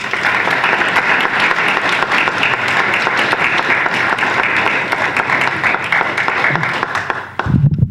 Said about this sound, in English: I want you to introduce him with a warm applause